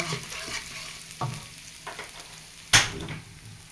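Minced pork for dry basil pork stir-fries in a hot pan, a continuous close sizzle broken by spatula scrapes and one loud metallic clank, with no voices.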